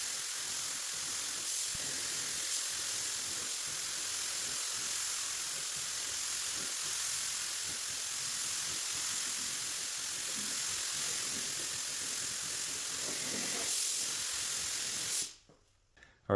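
An aerosol can sprays U-Pole clear coat onto a test fender in a long, continuous hiss with only slight pauses, fairly close, ending abruptly near the end.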